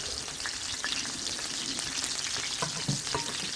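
Oil frying in a pan for cooking fish, with a continuous crackling sizzle and scattered sharp pops and spatters close by, and no talking.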